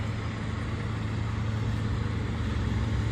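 A heavy John Deere 9420 tractor engine working under load in a field rumbles steadily and loudly, a constant low drone with no pauses and no voices.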